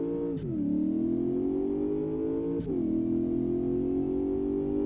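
A V8 engine in the Live for Speed racing game revs loudly and steadily, its pitch dipping twice briefly as gears shift, with no talk over it.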